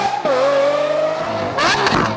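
A BMW 340i fitted with an aftermarket Valvetronic exhaust gives a loud, close rev that climbs and holds a steady drone. A sharper, higher burst follows near the end.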